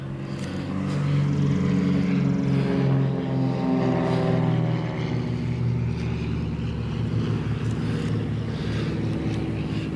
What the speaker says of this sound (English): One moment. It's a flyby.